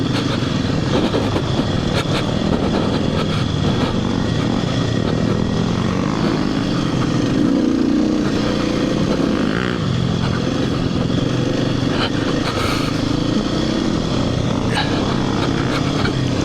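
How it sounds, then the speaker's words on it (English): A motorcycle engine braking hard produces a loud, continuous droning roar that holds steady throughout, with wind rush and small mechanical rattles mixed in and no speech. "engine brake just saved my life"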